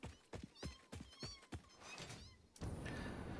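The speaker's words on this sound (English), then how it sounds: "Need to get rid of these cats." Cats meowing in a video game, several short wavering meows in quick succession over thuds and background game noise.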